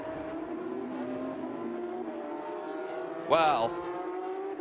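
A Porsche Supercup race car at Monza runs off the track, its engine droning steadily before a brief sharp burst near the end, with commentary talk over it.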